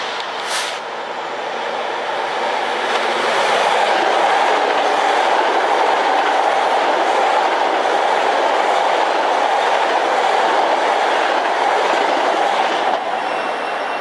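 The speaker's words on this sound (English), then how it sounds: "approaching now is train 1717 from Huntington to New York" Long Island Rail Road train 1717 from Huntington to New York approaches with a rising, steady rumble and rolling wheel noise that grows loud and stays continuous. A faint squeal rides over the din, and no one speaks.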